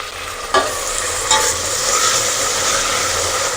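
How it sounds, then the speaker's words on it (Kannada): Eggplant with soaked peanuts frying in hot oil, a loud continuous close sizzle with two sharp stirring clacks near the start, no talk. "ಸ್ವಲ್ಪ ಫ್ರೈ ಮಾಡ್ಕೊಳ್ಳೋಣ, ಹಸಿ ಸ್ಮೆಲ್ ಹೋಗೋವರೆಗೂ."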